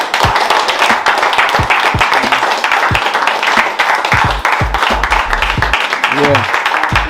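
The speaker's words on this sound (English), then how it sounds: "We give them a round of applause." An audience at a one-year anniversary charity event in Trench Town gives a round of applause, loud, scattered claps mixed with crowd noise and voices throughout.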